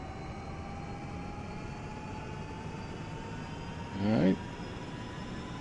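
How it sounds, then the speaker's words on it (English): Helicopter turbines of a UH-1 Huey in the DCS flight simulator spool up as a steady, faint rising hum with a thin whine, while someone briefly speaks partway through. "Turbines are spooling up nicely."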